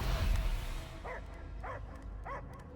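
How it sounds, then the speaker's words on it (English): Cosmo, a dog in a science-fiction video game, gives three short, evenly spaced barks or yips, fairly faint, over a low rumbling game soundscape. "I hear only barking."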